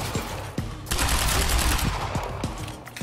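Gunfire in Quantum Break: scattered single shots, then a loud sustained burst of rapid automatic fire in the middle, tapering back to spaced individual shots.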